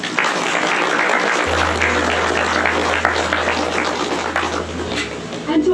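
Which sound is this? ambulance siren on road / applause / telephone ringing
applause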